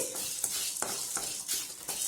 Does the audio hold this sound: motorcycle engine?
no